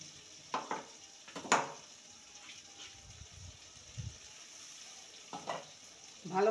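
Prepared spice paste for a spiny gourd curry goes into a pan over a fried tempering, giving a soft sizzle broken by scraping stirs and a few clattering knocks, fairly quiet overall.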